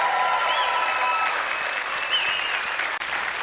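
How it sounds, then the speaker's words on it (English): Dense round of applause from a comedy show audience, sustained clapping throughout at steady loudness, with a few faint whistles over the crowd. "This is where the applause usually comes in."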